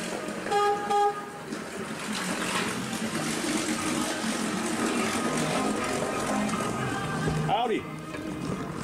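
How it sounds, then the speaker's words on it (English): A fishing boat's horn toots in two short, loud blasts near the start, followed by steady boat engine and water noise, with a person talking. "they got a kick out of me honking the horn there"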